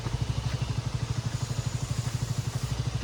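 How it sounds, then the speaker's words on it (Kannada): A KTM RC 200 motorcycle, six years old, runs just after starting, its single engine idling in a steady, rapid low thumping close by. "ಜೈ ಗಾಡಿ ಸ್ಟಾರ್ಟ್ ಮಾಡಿದ್ದೀನಿ. RC 200 ಇದು ನಾನು ತಗೊಂಡು"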